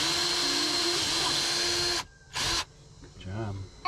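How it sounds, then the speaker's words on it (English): A power drill bores into a boat's floor board during a soft-floor repair on an Aquasport, whining steadily for about two seconds, then a brief second burst, followed by someone speaking. "I'm going to drill a hole first to make sure that we don't crack this board"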